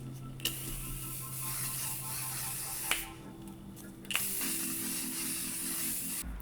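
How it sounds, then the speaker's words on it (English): Hairspray hisses onto styled hair in a steady, moderately quiet spray, with a few sharp clicks from the can's nozzle. "spray the hair in place."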